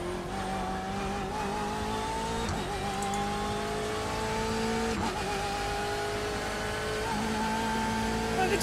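A race car engine in the iRacing sim drones steadily at a constant pitch, with a few brief shifts and changes in revs, at moderate volume and with no voices heard.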